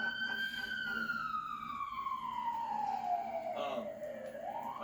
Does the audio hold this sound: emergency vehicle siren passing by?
yes